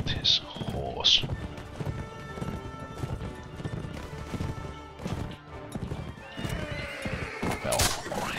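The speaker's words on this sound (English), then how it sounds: "two winged hussars riding around. I must shoot his horse." Horses whinny and gallop in a Mount & Blade With Fire & Sword battle, with two shrill neighs near the start and another near the end over constant drumming hoofbeats, clashing combat and voices.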